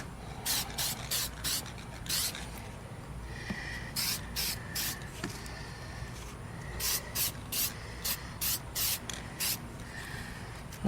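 Automotive enamel sprayed from a can onto a VW body near a window seal: a series of short, close hissing bursts in quick groups, pausing briefly between passes over a low background hum.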